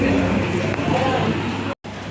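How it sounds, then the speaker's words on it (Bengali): Heavy rain pours from dark clouds in a steady, broad wash of dense drops beating on surfaces. It runs close and loud under a mix of background chatter and cuts out briefly near the end. "আকাশে ঘন কালো মেঘ, ঝমঝমিয়ে বৃষ্টি"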